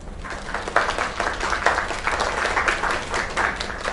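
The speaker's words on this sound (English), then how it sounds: "Another round of applause." Steady applause from a crowd in a video game, continuous clapping at moderate loudness with no voices on top.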